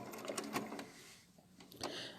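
A domestic sewing machine stitching applique with a zigzag stitch, a quiet rapid mechanical whirr that pauses briefly midway and then resumes, heard without speech.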